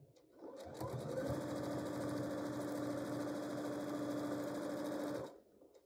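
A sewing machine stitching chenille strips onto a quilt with a regular stitch length runs in a fast, steady, close mechanical chatter for about five seconds, then stops, with no talking.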